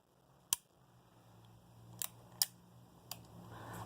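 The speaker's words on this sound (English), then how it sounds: "you would lift up, second click, third click" Revolver hammer being drawn back in stages, four sharp metallic clicks spaced unevenly over a few seconds against a quiet background.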